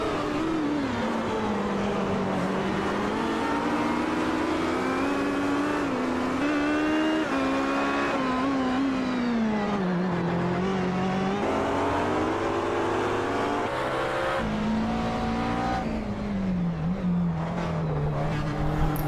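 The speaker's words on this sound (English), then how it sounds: "Driving a crippled car on a street track." A damaged race car in an iRacing-style GTC league event on the Long Beach street circuit revs through its gears, engine pitch rising and falling in repeated waves, with brief tire squeals at the corners, loud and close throughout.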